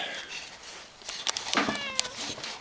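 A house cat meows a few times nearby in a workshop, short rising cries under light background noise and faint speech.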